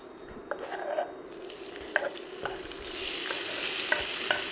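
Food fries in hot pork lard in a traditional Boyko-style home kitchen, a steady close sizzle broken by several sharp crackles and pops, with stirring noises and no talking.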